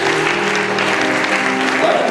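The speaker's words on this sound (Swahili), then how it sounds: "Atumpigie Yesu makofi kwa hiyo." A wedding congregation clapping together, dense steady applause close around, with voices mixed in beneath it.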